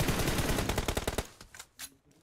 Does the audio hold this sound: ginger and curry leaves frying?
no